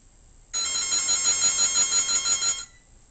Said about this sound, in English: Excuse me, I think I have a phone call.